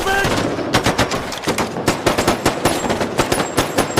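Gunfire in an action film, rapid bursts of automatic shots with sharp repeated cracks and booms, loud and dense throughout with a brief pause early on.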